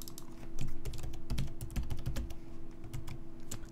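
Quick, busy typing on a computer keyboard, a close, quiet, irregular patter of key clicks that runs throughout with short pauses.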